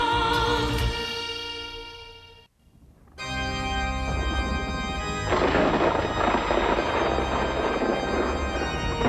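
Cartoon lightning bolt strikes an iron bar, followed by loud rumbling thunder with rain-like hiss, broken by a short near-silent gap before the roar resumes and swells.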